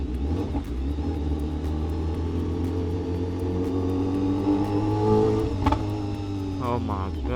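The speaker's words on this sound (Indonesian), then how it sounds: "Gue suka banget pop and bangnya sih" A BMW S1000RR motorcycle on the road gives a steady, loud engine drone, rising toward a few sharp exhaust pops near the end, with speech over it.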